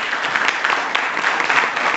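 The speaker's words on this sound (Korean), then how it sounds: "큰 박수로 맞이해 주십시오." Seminar audience claps steadily to welcome an information security speaker, a dense, even wash of applause in a room with no talk over it.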